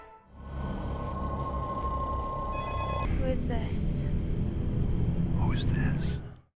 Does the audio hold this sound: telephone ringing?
yes